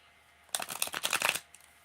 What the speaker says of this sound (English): Let me put these cards down.